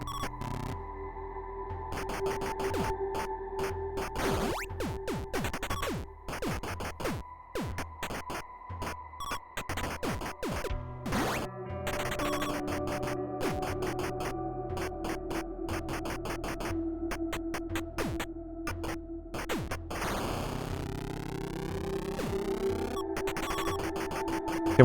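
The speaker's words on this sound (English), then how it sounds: "I want that uninterrupted sound effect of the spawning in" A video game spawning-in sound effect runs continuously from a Lua-programmed game: dense layered electronic tones, bleeps and sweeps, with a rising chirpy sweep near the end, steady and loud throughout.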